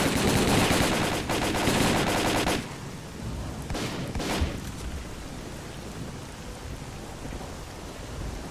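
Bursts of automatic gunfire from the video game STALKER: Call of Pripyat rattle for about two and a half seconds, then a couple of isolated shots ring out over a low rumbling background.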